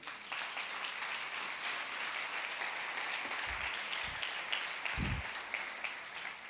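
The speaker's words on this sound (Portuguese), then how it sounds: "Dê um aplauso a Jesus." A church congregation claps in steady, dense applause heard from a distance at low level, with a few low thumps mixed in and no talk.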